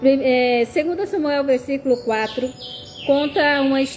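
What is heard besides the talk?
None of the usual background noises is heard.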